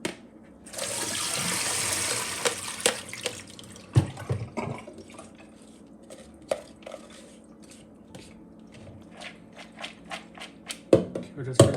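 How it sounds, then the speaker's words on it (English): Freshly rinsed bean sprouts, washed in cool tap water, drain with a gushing splash of water for a few seconds, followed by scattered clinks and knocks of kitchenware. "Okay, we just drain the water."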